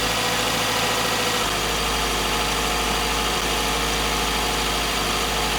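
A car engine running on premium gasoline holds a steady, loud mid-range drone at around 1600 rpm, a continuous close hum with vibration and no voices.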